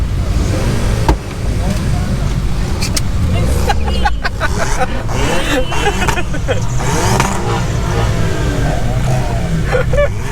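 At a car show at ImportAlliance Atlanta 2021, several cars rev their engines amid a loud, busy outdoor hubbub of crowd chatter, with the engine roar continuous and close.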